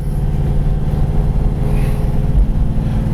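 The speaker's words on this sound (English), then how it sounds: "Shifting through the gears real nice and smooth." A 1968 Pontiac GTO classic muscle car on a test drive, its engine a steady low drone while it shifts smoothly through the gears, heard from inside the car with no voices.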